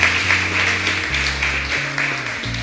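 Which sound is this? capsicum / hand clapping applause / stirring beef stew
hand clapping applause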